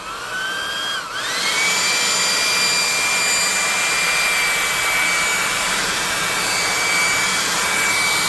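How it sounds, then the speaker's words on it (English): A high-pitched hair dryer whines steadily, dipping briefly before spinning back up to a constant loud roar of rushing hot air. "So let's give it some hair dryer."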